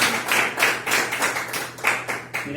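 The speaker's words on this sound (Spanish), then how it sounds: "Démosle un aplauso al Señor." A church congregation claps rhythmically in worship, a dense run of steady hand claps filling a large room with no talk over it.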